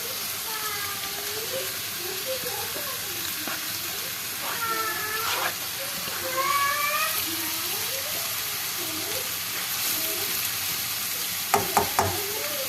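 Carrots sauté in a pan with a steady low sizzle, while a person talks over it in short phrases and a few quick clinks sound near the end.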